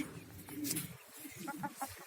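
Chickens cluck near a coop in a short run of soft, clipped clucks, fairly close and quiet, over a faint background.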